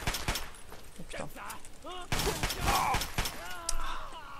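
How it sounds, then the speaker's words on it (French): Shotgun blasts from combat in the video game Fallout 3, sharp broadband bursts scattered through the clip amid game effects and music, with loud reports around the middle. "c'est bien ce que j'avais entendu le fusil à canon aussi"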